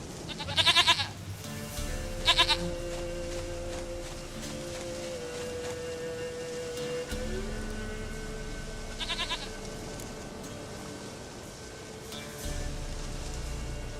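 A goat in The Witcher 3 gives a few short bleats, with two distinct cries early on and another later, over a steady ambient game soundscape with low tonal hum.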